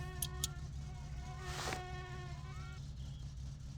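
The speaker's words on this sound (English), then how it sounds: "You hear that little ringing? You don't want that." A badly tuned distributor in the My Summer Car game leaves the engine with a thin, high insect-like ringing whine, steady and faint, over a low idle hum.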